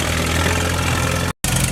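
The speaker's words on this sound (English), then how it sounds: "Here comes another Alice Chalmers WD." An Allis-Chalmers WD tractor engine runs steadily at a steam show, with a continuous loud mid-to-low engine drone and a very brief dropout near the end.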